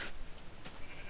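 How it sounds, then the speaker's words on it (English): Sheep in the video game Minecraft give a brief, faint bleat over a steady background hiss. "Oh, wait, sheep."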